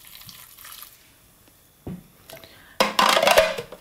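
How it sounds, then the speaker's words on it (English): A couple of tablespoons of water splash into a dry raw chocolate cherry breakfast bar mixture in a bowl, a few brief wet pours with a louder burst at the end, close and without talk. "So I'm going to add a little bit of water to this to give it just a bit of a binding agent."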